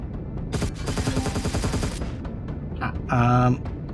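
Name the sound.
gun turret shooting in Empyrion Galactic Survival video game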